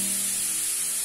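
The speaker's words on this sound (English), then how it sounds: "I am going to use grated carrots. And I'm going to put into the pan" Grated carrots drop into a hot pan for carrot halwa and set off a close, steady, even sizzling hiss that holds unbroken for about a second.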